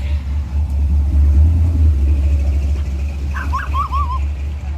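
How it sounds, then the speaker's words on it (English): A 1940 Ford street rod rolls past at a street rod show, its engine a steady low rumble throughout with a brief chirpy sound near the end. "There's a 40 Ford for you"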